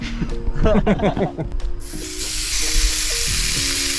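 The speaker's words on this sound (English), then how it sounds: "We're out here in the middle of the lake. Burgers cooking up." Hamburgers sizzle on a grill aboard a pontoon boat out on a lake, a steady bright hiss rising suddenly and holding after a few seconds of people talking close by.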